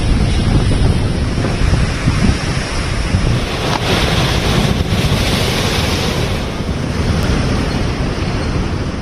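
Rough sea surf pounds the eroded shore of Shankhumukham beach, a continuous loud roar of breaking waves with heavy wind buffeting the microphone and no voices.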